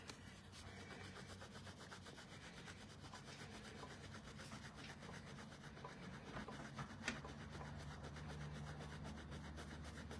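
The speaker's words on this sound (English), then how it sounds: "I love these sand erasers, but like I need to be very precise on this, and it's just not happening" A sand eraser rubs steadily on paper at close range, making a continuous faint gritty scrubbing for several seconds with no pause and no voices.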